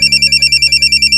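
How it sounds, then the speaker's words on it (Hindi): A telephone rings in a loud, steady rapid trill that pulses evenly and sounds alone, with no talk. "अरे आपका फोन।"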